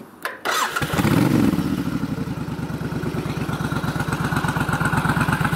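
A 2002 Suzuki Intruder 1400 motorcycle with aftermarket pipes cranks briefly, fires up and settles into a loud, close, lumpy idle with a steady rapid pulse.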